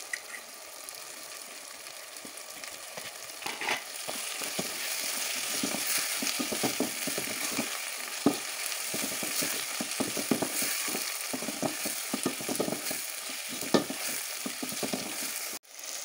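Mint and coriander leaves sauté in hot oil in a pan for Ramadan nombu kanji rice porridge, a steady sizzling hiss with scraping stirs and clinks of a spoon, close and continuous without talk.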